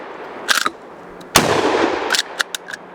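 A Dominion Arms 1887 lever-action shotgun fires at an outdoor range: two sharp, loud blasts about a second apart, each followed by a rumbling decay and rattling clicks, with small metallic clacks of the lever action cycling in between.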